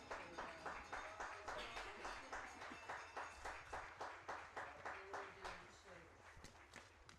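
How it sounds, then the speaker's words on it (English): A stadium crowd applauds a Hall of Fame class at a college football halftime ceremony between Rose-Hulman and Defiance, producing steady, evenly pulsing clapping that stays loud for the whole stretch. "let's have one more big round of applause"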